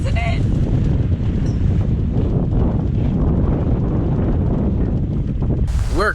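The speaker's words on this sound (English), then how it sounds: "We've rounded the corner, so the wind picked up." Strong wind buffets the microphone aboard a sailboat cruising on a beam reach at about 5.5 knots, a loud continuous rumbling roar with water rush, ending in a brief higher squeak.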